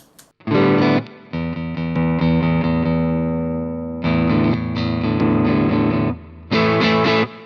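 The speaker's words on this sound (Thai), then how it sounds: "ตอนนี้ผมใช้เสียงแตกที่เป็นโครนิ n g Marshall Brubaker นะครับ" An electric guitar played through a Zentro overdrive boost into a Marshall Bluesbreaker-style distortion pedal rings out in loud sustained chords and phrases, three main bursts separated by brief gaps, with no talking.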